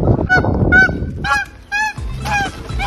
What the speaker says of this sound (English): We got some adults right here. Awesome geese. And goslings.